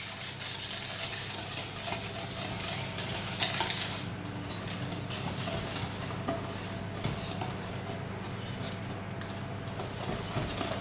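Flour and baking powder being stirred into brownie batter in a bowl, a steady scraping and clinking of a utensil against the bowl that runs continuously, with a low background hum and no talking.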